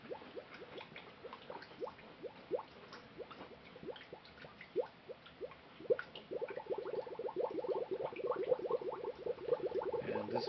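Water pours into a bottle, a run of gurgling, bubbling glugs that grows busier and louder as the bottle fills, close up with no talking.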